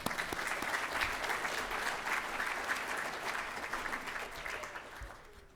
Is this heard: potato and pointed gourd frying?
no